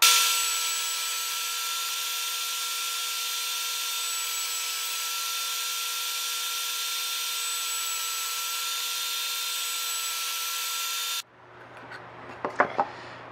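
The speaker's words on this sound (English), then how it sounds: "The next step is going to be to clean up some edges over here at the table saw" A table saw trims the edges of wooden pieces for a bird house, its motor holding a steady, loud whine for about eleven seconds before cutting off, followed by a few light knocks and clatters.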